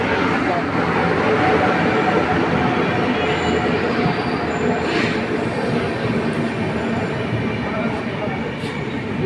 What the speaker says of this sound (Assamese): নলবাৰী ষ্টেচনৰ 3 নম্বৰ প্লেটফৰ্মত ব্ৰহ্মপুত্ৰ মেল অলৰেডি সোমাইছে।